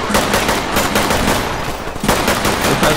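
Rapid automatic gunfire fills a shootout inside a post office in the tactical shooter game Ready or Not, a loud, dense, continuous stream of shots with barely any pause.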